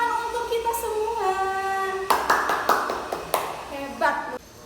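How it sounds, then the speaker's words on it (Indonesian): Children in a primary school classroom clap in a short, rhythmic run of sharp, evenly spaced claps during a micro-teaching lesson, with a teacher's voice speaking before and after. "Tepuk tangan untuk kita semua."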